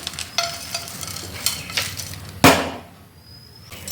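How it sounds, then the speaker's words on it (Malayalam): Three sprigs of curry leaves fry in oil for an egg theeyal. Light stirring clinks come first, then a sharp crackling burst as the leaves hit the hot oil, followed by a fading hiss, close up and without talk. "കുറച്ച് കറിവേപ്പില ഒരു മൂന്ന് തണ്ട് ഞാൻ എടുത്തിട്ടുണ്ട് ഇതിനി നമുക്ക് നന്നായിട്ട് വറുത്തെടുക്കാം"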